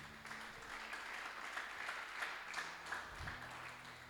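A church congregation at a Sunday service applauds steadily for about four seconds, a dense, even patter of many hands heard at a moderate distance in a reverberant hall.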